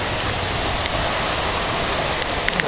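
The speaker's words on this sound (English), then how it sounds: "It's raining." Steady rain pours down at a football ground in a white squall, a dense continuous hiss that stays loud and unbroken throughout with no voices.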